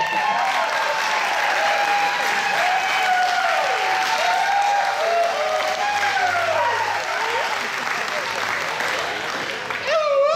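Audience applause for a first-place winner at an award presentation during a Bavarian folk dance festival in Leavenworth, a dense sustained clapping from a crowd lasting throughout, with a voice talking over it.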